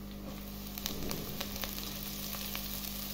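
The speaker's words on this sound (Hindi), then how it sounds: "हरी मिर्च फ्राई होने के बाद हम इसमें साग शामिल कर देंगे।" Green chillies frying in a pan before saag goes in, giving a steady close sizzle and crackle with a constant background hum and a few faint stirring clicks.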